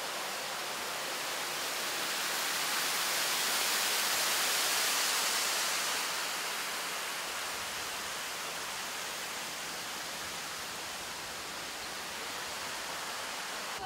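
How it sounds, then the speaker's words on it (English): A steady broad rush of falling water fills the scene, constant and hissing like a waterfall, swelling slightly early on then holding even. "You can hear the waterfall, it sounds awesome."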